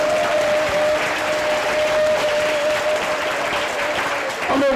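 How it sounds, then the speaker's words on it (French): A church congregation applauds and cheers loudly at a French-language worship service, a dense continuous clapping with a sustained tone running beneath it, fading briefly at the end. "Tu peux acclamer Papa Jésus."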